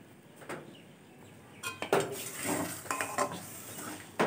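Soaked dhoka is stirred in a wok with a little oil and nigella seeds, giving close scraping, clinking spatula strokes over a light sizzle, with stirring growing busier after a quiet start.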